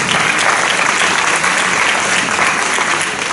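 Dense, loud audience applause after a talk, a continuous wash of many hands clapping at once with no pauses, heard alone.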